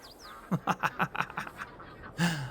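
Ducks quack in Farming Simulator 22 on a roleplay farm: a quick run of about eight close, raspy calls in a steady rhythm, a short pause, then one more loud quack at the end.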